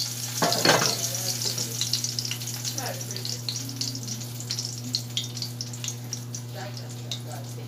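Fish frying in oil, a continuous close sizzle with scattered spits and pops, accompanied by a low steady hum and a brief spoken moment.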